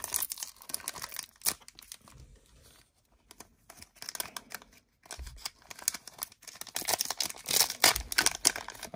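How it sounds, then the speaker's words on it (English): Pokémon card booster packs are torn open by hand, a close series of crinkling rips and foil rustles in irregular bursts with short quiet pauses, no talking. "I'm gonna have to open up these packs a different way because the little tear there on the side's not working like it's supposed to"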